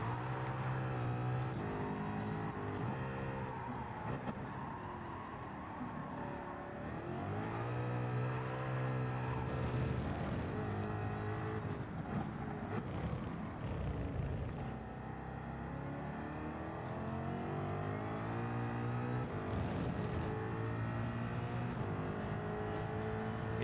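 A Ford Mustang race car in Gran Turismo 7, lapping Fuji, its engine roaring continuously with rising and falling revs through gear changes, loud and steady throughout with no talking.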